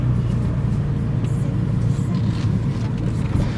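A 2013 Fiat Abarth 500 Cabriolet with the top down rolls slowly up to a gate, its engine a steady low rumble throughout, close and continuous with no talking.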